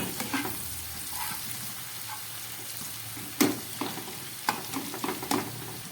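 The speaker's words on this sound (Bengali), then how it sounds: "দিয়ে এবার আমি সব একসঙ্গে একটু ভেজে দিচ্ছি" Crushed cinnamon, cloves and cardamom fry together in a pan, giving a steady sizzle with occasional sharp scrapes and clicks of a stirring spoon, and no talk.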